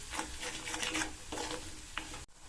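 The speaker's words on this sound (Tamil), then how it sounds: "பெருங்காயத்தூளும் மிளகாத்தூளும் சேர்த்ததுக்கப்புறமா ஜஸ்ட்டு இதை நல்லா இந்த மாதிரி ஒன்று சேர்கிற மாதிரி வதக்கி விட்டுட்டு" Mango ginger pickle with chili powder and asafoetida being stirred in a pan, a quiet close sizzle with rhythmic scraping strokes of the spoon and a brief clack near the end, no voices.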